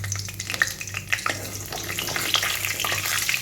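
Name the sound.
bay leaf, cumin and dried chili tempering in hot oil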